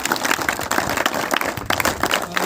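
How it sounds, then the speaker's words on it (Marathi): An audience at a yoga-themed gathering breaks into dense, loud applause, continuous clapping from many hands throughout. "सर्वांच्या एकदा जोरदार टाळ्या होऊन जातात"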